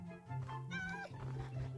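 A black and white spotted cat in Minecraft 1.19 lets out a single short, faint meow over a low hum.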